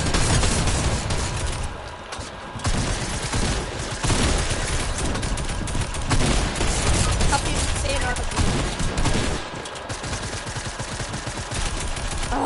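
Dense, continuous video-game gunfire with rapid bursts and volleys, loud and sustained throughout, with players talking over it.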